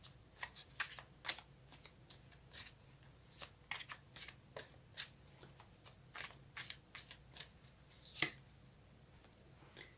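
Tarot cards are shuffled close by in a quiet room, a series of quick crisp riffles and slaps repeating irregularly, with no talking.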